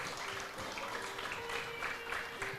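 An audience at a closing ceremony claps for the organiser, steady moderate applause from a room full of people throughout.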